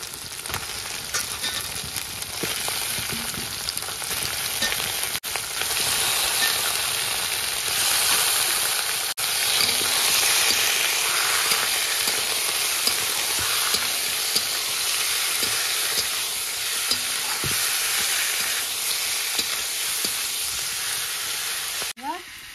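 Meat frying and being stirred in hot oil spiced with garlic, ginger and cumin: a loud, steady sizzle runs throughout, with scraping stirs mixed in and a few light clicks near the end.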